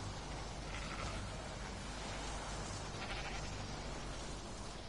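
Sheep in the video game Ark bleat against a dense, steady wash of game ambience, with no talking.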